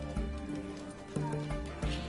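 Horse hooves pounding at a gallop in the video game The Witcher 3: Hearts of Stone, a rhythmic clip-clop beating steadily through a short stretch against a thick game soundtrack, with no talk.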